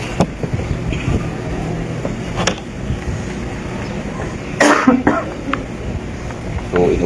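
A few scattered coughs break through a steady background hum, with a harsher, louder cough burst near the end.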